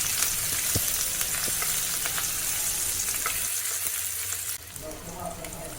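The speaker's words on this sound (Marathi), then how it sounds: "आणि एक छोट्या आकारचा कांदा बारीक कापून घेतलेला आहे आता परतून घेऊया" Finely chopped onion and green chili sautéing in a pan for a Puneri misal potato bhaji, a steady dense sizzle with occasional stirring scrapes, close and loud throughout.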